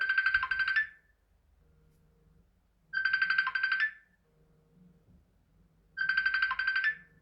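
A phone ringtone for an incoming call plays three times in evenly spaced bursts about a second long, bright and electronic, with near silence between rings.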